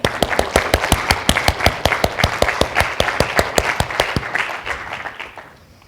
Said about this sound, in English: ask the workshop participants to give them a round of